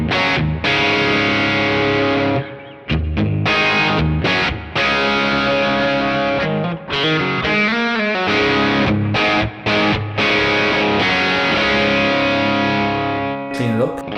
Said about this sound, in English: the third one I have is a flexi sound